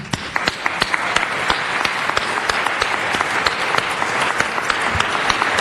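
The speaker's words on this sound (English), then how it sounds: "give yourselves one hell of a round of applause" Applause from an audience at a city council meeting, a sustained crowd clapping with sharp individual claps standing out, steady and fairly loud, no speech.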